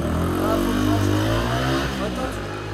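A repaired Fantic 125 motorcycle, its loose starter relay fixed with a cable tie, pulls away and accelerates. The engine gives a loud, close, steady buzzing drone that rises slightly and then eases.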